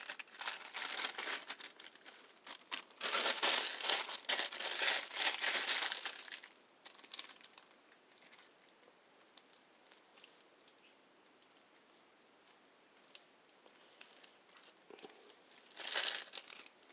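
Wax paper crinkles and crumples in bursts while crafting junk journal tag banners, loud rustling handling near the start, a quiet pause, then another short crinkle at the end.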